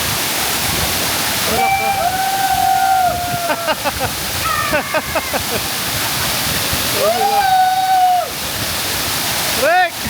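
Loud rushing water at Badiang Spring Resort pours steadily throughout, with people talking and calling out over the roar.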